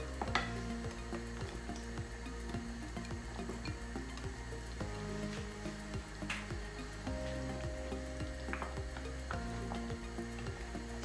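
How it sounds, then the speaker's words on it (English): Paneer cubes go into a simmering butter masala sauce, bringing a quiet, continuous sizzle with quick irregular ticking pops and bubbling close by, with no talking. "now I'm going to add all the paneer cubes"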